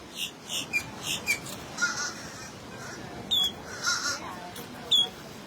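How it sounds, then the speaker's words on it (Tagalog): Crow-like bird caws at the seaside, several short sharp calls spaced irregularly, moderately near over a soft steady surf-and-breeze background, with faint voices in the distance. "Ibon."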